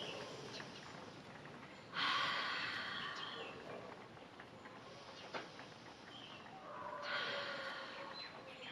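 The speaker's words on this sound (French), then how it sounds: "J'inspire par le nez, je souffle par la bouche" Slow breathing exercise: two long audible breaths, air drawn in and pushed out, soft and close in a quiet room, separated by pauses.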